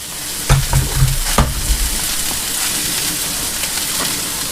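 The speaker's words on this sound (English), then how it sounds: "Let that butter heat up." Butter heating in a pan for ribeye burgers, giving a steady loud sizzle that fills the space, with a few sharp clatters early on and no talking.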